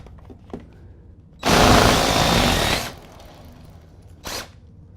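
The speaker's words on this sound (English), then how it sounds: "we're going to use an impact to remove the countershaft sprocket nut" An impact wrench on a motorcycle's countershaft sprocket nut gives one loud, close burst of rattling hammering lasting about a second and a half, then a brief short blip a moment later.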